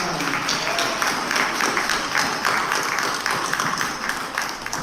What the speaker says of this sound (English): let's give a round of applause for our Dolton Fire Department